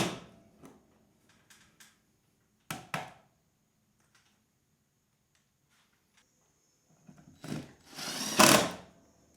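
A drill drives large screws with a number 3 Phillips bit in a garage, sounding as short bursts of whirring and grinding separated by quiet gaps, with a longer, louder run near the end.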